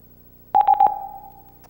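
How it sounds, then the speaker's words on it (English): A secure phone answers the press of its Go Clear button with a loud, clean burst of three quick beeps, then a single steady tone that holds and slowly fades, heard alone on a quiet line. "hey, Stephen, press your Go Clear button, please."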